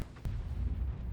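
The big gun of a KV-2 heavy tank in World of Tanks fires a single heavy blast, a sharp crack followed by a low rumbling boom that dies away quickly.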